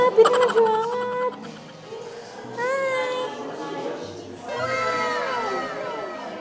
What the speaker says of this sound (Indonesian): Ini kucing.